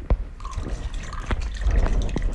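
Water trickling and dripping onto flowers in the game Toca World, a light splashy patter with a few distinct drops, close and fairly loud, no voices.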